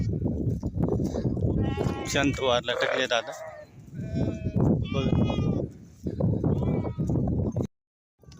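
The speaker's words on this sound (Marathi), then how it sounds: "रोडाच्या पलीकडे मेंढ्यात आता कशा चरतात बघा" A flock of sheep grazing across a road in the evening, with repeated bleats near and far over steady background noise while someone talks throughout.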